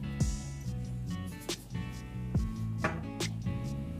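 Seven eggs and a pinch of salt beaten in a bowl: a few sharp taps and clicks of utensil against the bowl at an irregular pace, close up, over a soft background hum, with no talking.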